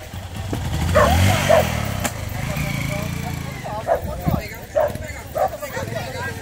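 Dogs bark in short loud bursts at a rural dog vaccination in Estrela de Alagoas, Brazil, over a running motorcycle engine and people talking nearby.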